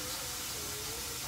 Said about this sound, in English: Watch it sizzle.